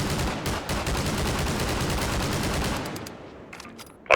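Rapid automatic fire from the VJ Base Half-Life 2 pulse rifle in Garry's Mod, a dense, loud stream of shots lasting about three seconds, then fading into a quieter tail before a sharp final burst.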